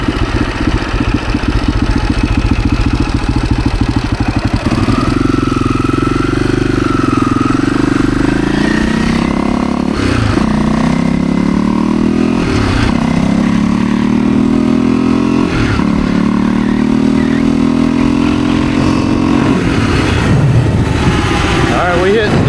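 A rare Husaberg dirt bike engine revs and accelerates through several gear changes during a speed run toward 60 mph, loud and close, with rising and falling pitch and brief dips between shifts.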